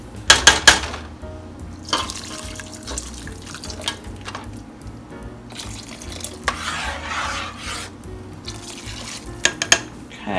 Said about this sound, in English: And then just start to slowly add your broth.